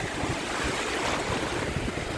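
Ocean waves washing onto a beach in Southern Thailand, a continuous broad roar of surf with wind buffeting the microphone, no voices heard.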